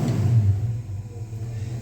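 A 1953 Ford F100 hot rod engine idles with a steady, deep low rumble, fairly loud and close, holding an even tone throughout with no talking.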